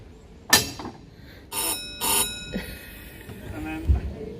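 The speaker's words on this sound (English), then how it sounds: "So that's how we'd speak to each other. Ah, by bells." A heritage tram bell at a park tramway gives a few sharp single dings spaced apart, with clanging resonance and quiet talk nearby in an open outdoor setting.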